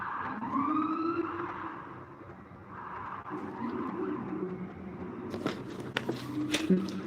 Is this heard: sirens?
yes